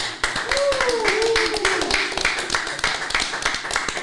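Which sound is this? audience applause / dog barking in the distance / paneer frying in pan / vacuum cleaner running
audience applause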